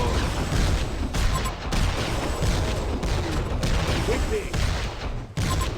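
Rapid gunfire from a video game battle rattles on almost continuously, dense and loud, with a voice calling out over the shooting.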